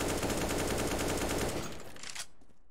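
Rapid automatic AK rifle fire in the video game CS:GO, a dense, loud continuous burst of shots that cuts off near the end, leaving a brief fading tail.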